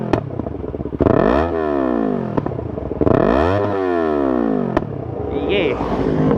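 A Yamaha R3 motorcycle fitted with an Akrapovic exhaust muffler revs hard twice, each blip climbing sharply then falling back to a lumpy idle, loud and close, with a sharp crack between and a brief voice near the end.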